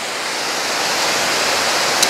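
Steady, broadband rush of a waterfall at Indiana's first state park, a continuous dense roar recorded close and unbroken, with no voices.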